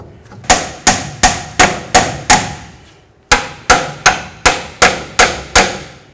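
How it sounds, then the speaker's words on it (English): A hammer taps a cam bolt into the front upper control arm of a Chevy C/K1500 pickup: two bursts of about six sharp, ringing metallic blows each, evenly spaced and close, with a brief pause between them. "You might have to tap it with a hammer."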